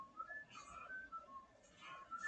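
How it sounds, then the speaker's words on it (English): Someone whistles the Spider-Man theme, a short tune of quick, bright notes rising and falling, fairly faint and heard alone. "Why is he whistling the Spider-Man theme?"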